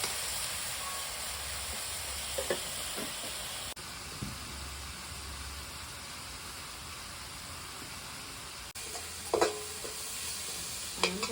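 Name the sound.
onions frying in a pan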